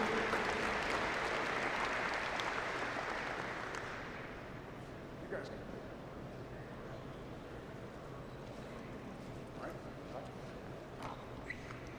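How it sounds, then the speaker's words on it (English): Audience applause at an indoor national archery championship shoot-off, a broad wash of clapping that fades after a few seconds into scattered claps and room murmur. "Give her a big round of applause."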